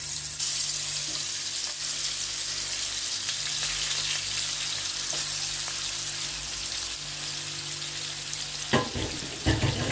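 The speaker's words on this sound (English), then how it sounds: "I'm going to flip it over and fry the other side as well." Chicken wings fry in oil with a constant bright hiss and sizzle, close and even, with a couple of louder clatters near the end.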